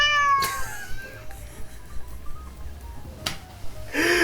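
A cat meows loudly and close up in a couple of short, clear calls with a brief pause between them, with no talking.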